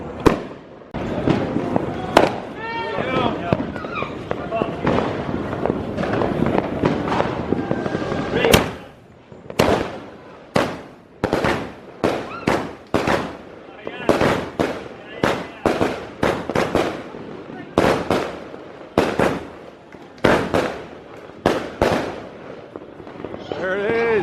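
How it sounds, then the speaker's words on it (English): New Year celebration fireworks and firecrackers in Angeles City, Philippines: loud, rapid cracks and bangs burst repeatedly at close range, first under a crowd's cheering and chatter, then as sharp, separate booms. "And there's going to be some fireworks going on."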